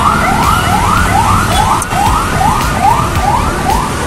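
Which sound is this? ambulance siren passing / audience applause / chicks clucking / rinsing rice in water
ambulance siren passing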